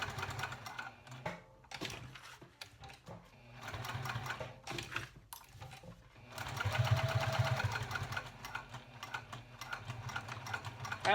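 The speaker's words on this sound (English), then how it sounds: "You can feel the difference in the thickness when you're sewing." A sewing machine stitching the thick layers of a tall wallet runs in uneven bursts, with short pauses and a steadier stretch of stitching, quiet and close.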